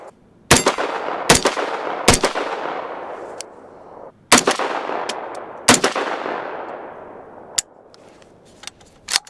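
A Foxtrot Mike M-102 firearm fires a string of sharp, loud shots, each ringing out with a long decaying echo; about six main reports come in irregular spacing, with fainter clicks and clinks between them and no talk.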